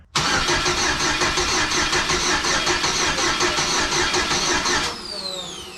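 A GMC Sonoma truck engine cranks continuously for about five seconds with a rapid, rhythmic churning, loud and close, but never catches, then cuts off into a quieter fading tail.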